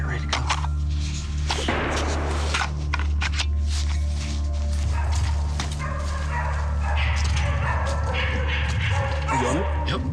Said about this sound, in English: We still got dogs barking.